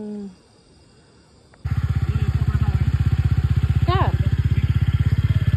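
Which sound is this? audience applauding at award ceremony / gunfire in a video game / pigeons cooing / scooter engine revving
scooter engine revving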